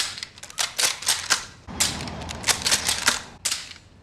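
Sharp, close cracks in quick clusters fill a scene depicting three timed shots from a Carcano bolt-action rifle, loud and alone without talking.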